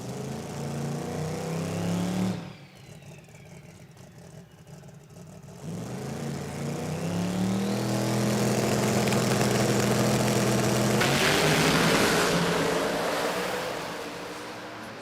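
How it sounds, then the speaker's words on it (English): Turbocharged Hemi Pro Mod drag car at a drag racing event, its engine rising to a loud, sustained roar after a brief lull, heard from a distance, with no one talking. "Let's listen to the turbo Hemi go."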